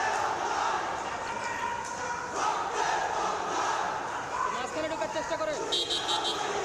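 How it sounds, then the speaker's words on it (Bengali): A crowd of protesters chants slogans in a loud outdoor rally, with many voices roaring together in rising and falling waves and a dog barking somewhere in the mix. "একটু পরপরেই তারা স্লোগান দিচ্ছেন"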